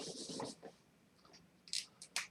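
Pen or pencil writing out math steps on paper, a few soft close scratching strokes followed by brief sharper scribbles after a short pause, with no talking.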